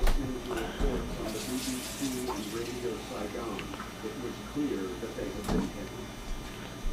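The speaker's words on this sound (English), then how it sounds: "Get a little more water here." A kitchen tap runs steadily while hand pies are being filled and baked, the water rushing at moderate loudness beneath a person talking throughout.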